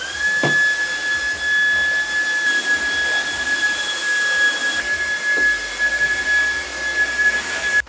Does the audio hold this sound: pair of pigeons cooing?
no